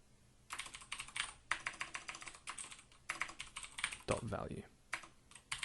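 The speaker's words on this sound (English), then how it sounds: "See, my typing is not very good" Computer keyboard typing in quick irregular bursts of close, crisp key clicks, with someone speaking briefly partway through.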